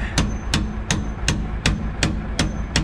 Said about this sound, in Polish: Daj młotka.